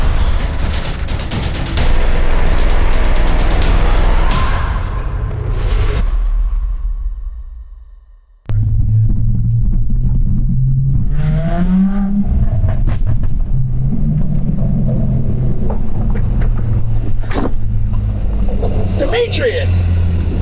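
An Audi S4 being driven, its engine and road noise loud and close, rising and revving, then dropping to near silence before a strong low rumble resumes as the car pulls away again.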